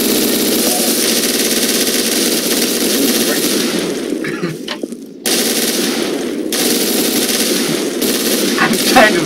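Rapid gunfire from a gun in the game Garry's Mod rattles almost continuously, loud and close, with brief gaps, while people talk over it.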